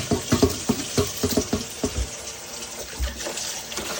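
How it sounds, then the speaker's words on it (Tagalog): Chicken intestines (isaw) being rubbed with salt and washed by hand in water, with rhythmic close splashing and sloshing that settles into a softer trickle. "lamasin sa asin, hugasan ng hugasan, saka natin lalagain."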